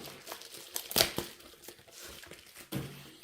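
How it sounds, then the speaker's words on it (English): Cardboard box and paper packing material are unpacked at close range, with crinkling, rustling paper and sharp tearing bursts, one standing out as the loudest, in an otherwise quiet room. "Well packed, good sturdy box, cardboard, paper, all that."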